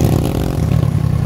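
A motorcycle engine on a farm road, a close, loud, rough mid-pitched putter with steady pulsing throughout a brief moment, no talking.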